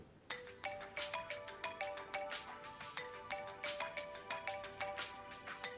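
A phone ringtone repeats steadily in short electronic bursts, a bright melodic chime pulsing over and over at moderate volume with no talking.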